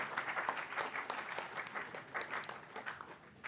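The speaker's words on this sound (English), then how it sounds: "For our exceptional finalists and moderator, may we please have a huge round of applause," Audience applause at a memorial debate finals honoring the finalists and moderator, a steady dense wash of many hands clapping, moderately distant and sustained throughout.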